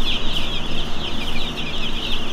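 Flock of chickens clucking steadily in a farm coop bedded with pine shavings, a close, loud, continuous chatter of overlapping clucks with no talking.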